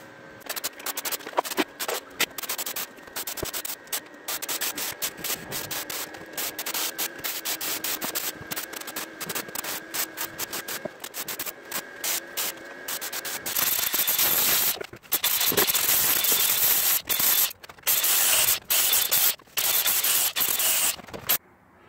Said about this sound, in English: So Justin just did a few more, I guess you call it what, tack welding? Yeah. Or spot welding. And then ground all this down to make sure it wasn't sharp